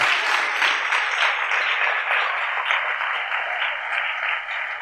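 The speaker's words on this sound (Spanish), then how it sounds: "Denle ese aplauso al Rey en esta hermosa y linda oportunidad" Steady, sustained applause from a large crowd, dense clapping that continues evenly throughout without pause.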